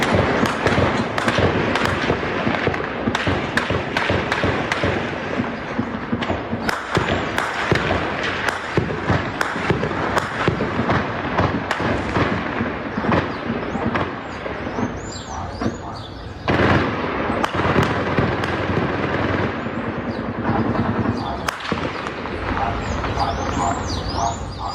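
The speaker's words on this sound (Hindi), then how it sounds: "देखिए गोलियों की तड़तड़ाहट से पूरा शहर गूंज उठा" Gunfire rattles during a police clash with drug gangs in Rio de Janeiro, Brazil: dense, rapid cracks and bursts crowd together for the whole stretch, loud and echoing, with occasional voices mixed in.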